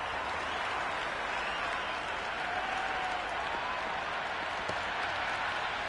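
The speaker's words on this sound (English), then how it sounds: "the excitement emanating from this crowd at the moment" A cricket crowd at a Sydney derby applauding and cheering in a continuous, distant wash of clapping and murmur, with commentary speech over it.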